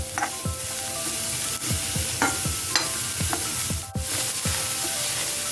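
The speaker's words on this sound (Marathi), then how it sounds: "बघ आता कांदो भाजत इलो" Onion frying in oil in a pan for a Malvani Kokan Gokulashtami offering, a steady close sizzle with repeated scraping stirs of a spoon across the pan, no voices.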